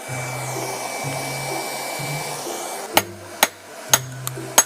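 Heated steel is hammered while forging a rubber tapping knife. A steady forge-like hum runs first, then five sharp ringing hammer blows land at an uneven pace, close and clear.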